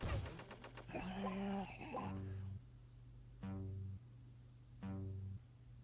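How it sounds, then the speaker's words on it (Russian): Tank turret guns fire in a tower defense video game at a military base, three evenly spaced booming shots with sharp attacks and ringing decay over a steady low musical drone. "У него также есть выстрелы из башни."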